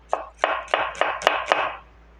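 A knife slices an onion into small pieces with six crisp, evenly spaced cuts in quick succession. The chopping is close and clear.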